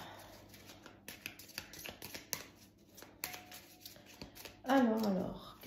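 Tarot cards are shuffled and laid over one another in a series of soft, close papery flicks and taps at an irregular pace, followed by someone speaking at the end.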